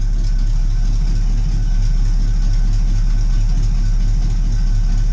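A 1984 Oldsmobile Cutlass engine with a freshly tuned carburetor idles steadily and smoothly on a cold start, a low continuous rumble with an even pulse, loud and close, with no voices.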